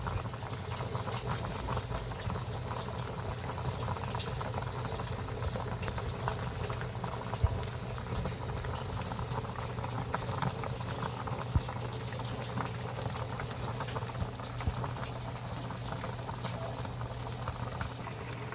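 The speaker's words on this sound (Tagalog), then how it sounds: "Kulong-kulo na po" A pot of beef nilaga boils vigorously, a steady dense bubbling and churning that runs on evenly for the whole stretch with no one talking over it.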